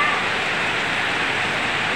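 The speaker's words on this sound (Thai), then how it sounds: "ฝนตกครับผม" Steady rain falls outdoors while beef is being cooked, a constant, even hiss of drops filling the background with no clear breaks.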